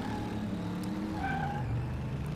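Supercharged V8-swapped car in Car Mechanic Simulator 2018, its engine droning steadily while the tyres skid with a rising screech midway, loud and continuous with no voices.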